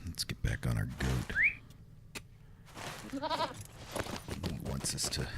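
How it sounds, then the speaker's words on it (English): A goat mount bleats in the fantasy online game Lord of the Rings Online, a short wavering cry amid game clicks and effects, fairly quiet and close, with someone speaking nearby. "let's get back on our goat"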